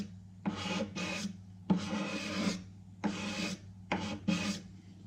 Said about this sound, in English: Scrape away.